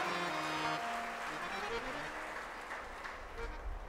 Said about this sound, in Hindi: सीता जी के लिए ताली बजाकर प्रणाम